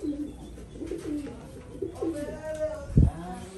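Small pet sparrows pecking at grain, with soft coos and chirps from a dove or pigeon nearby, plus a brief low thump near the end; a faint voice murmurs in the background.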